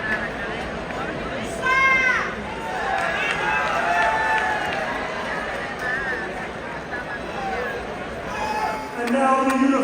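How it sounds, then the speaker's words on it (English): Crowd murmur fills an arena before a women's boxing main event, a steady babble of many voices with occasional louder swells, while a clearer voice speaks over it. "the crowd is building, and looking forward to the big main event"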